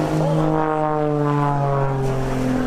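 A Red Bull Extra 300 aerobatic propeller airplane performing at an air show, its engine droning loud and steady with a strong tonal buzz as it passes close overhead.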